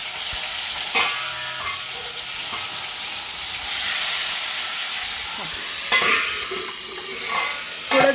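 Tomatoes dropped into hot oil with garlic and chilli fry with a steady close hiss that swells into louder sizzling bursts, with occasional clinks of a utensil stirring the pan.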